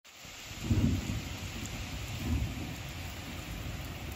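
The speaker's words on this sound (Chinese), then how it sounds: "大雷闪电， 下大暴雨啊。" A heavy thunderstorm at night in rural Sichuan, with dense rain hissing steadily on surfaces as heard from shelter in an abandoned house, and two deep rolling thunder rumbles swelling beneath it.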